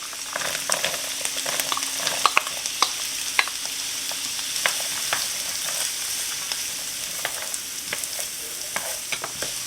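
Peeled, chopped carrots sizzle steadily in a pot for chicken or turkey pot pie filling, a continuous bright crackle with occasional stirring clicks and no talking.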